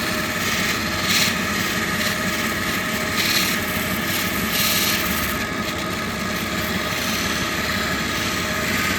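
A SE Missouri agate being contour polished against a spinning polishing wheel, making a steady, continuous grinding rub with a motor hum underneath. The sound stays even and unbroken throughout, with no talking.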